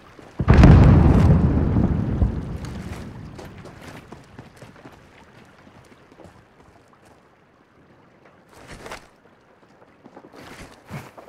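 Grenade blast in a first-person shooter video game: one loud, booming detonation at the start that rolls off over several seconds, followed by quieter game noises and a couple of faint bursts later on.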